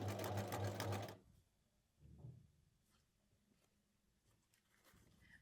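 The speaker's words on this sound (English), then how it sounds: "show you how to sew the 2 seams in one go" A sewing machine runs fast and loud for about a second while sewing two seams of a Dekoboko top, then stops, leaving a quiet room with faint clicks and a brief low thump.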